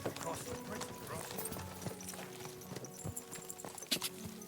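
Rapid hoofbeats of a galloping horse in the video game Kingdom Come: Deliverance II pound steadily in an irregular rhythm, moderately loud, with scattered thuds and clatter around them.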